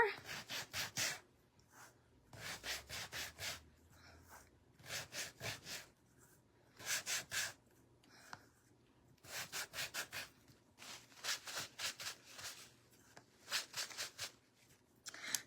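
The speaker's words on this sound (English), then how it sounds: "all of those have now been sanded." Wooden pieces from a barn quilt kit being hand-sanded, with repeated bursts of short rasping back-and-forth strokes separated by quiet pauses, close and fairly soft.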